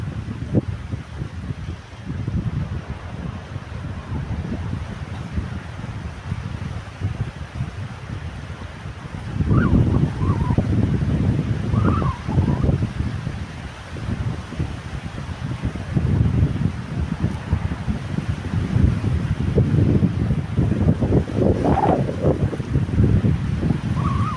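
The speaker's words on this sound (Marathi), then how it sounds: "अली अली लाट अली" Waves wash up on Palande Beach at high tide in repeated low surges over steady wind noise on the microphone, growing louder as the water rushes in.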